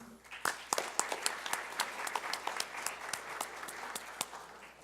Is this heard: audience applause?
yes